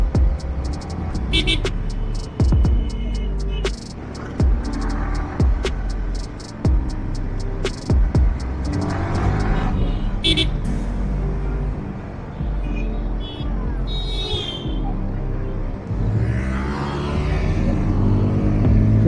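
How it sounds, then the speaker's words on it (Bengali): Cars and motorbikes speed along a road during a busy Eid group ride, engines rumbling and whooshing past close by, with sharp knocks and bumps from the ride and occasional horn toots. "আজকে সব জোরে গাড়ি চালাচ্ছে।"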